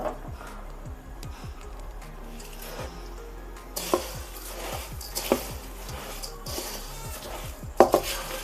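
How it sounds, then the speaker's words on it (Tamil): Puffed rice is stirred and tossed into jaggery syrup in a pan on a switched-off stove for Karthigai Deepam pori urundai, giving soft repeated scrapes and light clinks of the spoon against the vessel, fairly close and steady, with no talking. "இப்போ வந்து பொரியல சேர்த்துருவோம் எல்லா இடத்துலையும் பரவுற மாதிரி இப்படி சுற்றி விட்டுக்கலாம்"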